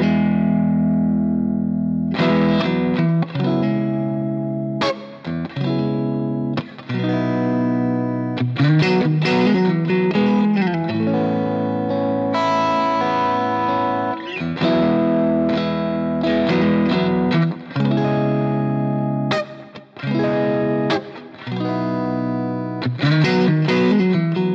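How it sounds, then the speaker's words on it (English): A Stratocaster electric guitar played through an Origin Effects M-EQ Driver pedal at a lower gain setting gives warm, lightly overdriven chords and single-note phrases, loud and continuous with short pauses between licks. "This pedal not only works really well in higher gain settings, let's have a listen to see what it sounds like with a lower gain setting with the Strat."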